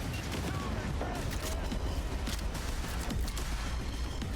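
Shotgun blasts and game combat in Cyberpunk 2077 keep up a dense, continuous, rumbling din, with a few sharper bursts standing out from the steady wash of battle noise.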